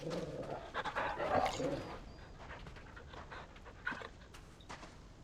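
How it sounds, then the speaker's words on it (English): Dog panting from the Final Fantasy XVI video game, played through a controller speaker and picked up in a room; quick breathy pants, fairly faint, with a few soft vocal sounds mixed in. "That actually comes out of the controller, the dog sound."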